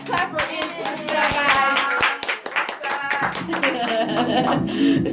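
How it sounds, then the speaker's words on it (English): Several people clap at close range to welcome a woman guest onto an informal show, the sharp hand-claps mixed with music and talk running underneath. "Donnie Lynee, let's clap her in for the show"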